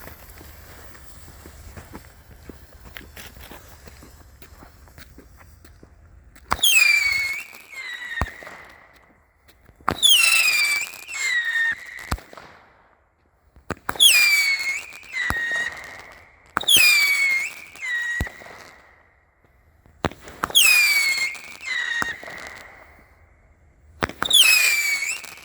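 A 200-gram Golden Bear "Rock the Night" firework cake goes off: repeated whistling launches each followed by crackling pops, coming in rhythmic volleys over about twenty seconds, fairly loud and nearby.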